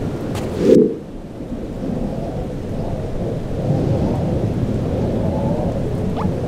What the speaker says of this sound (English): Maybe our friends came in here to take shelter from the rain.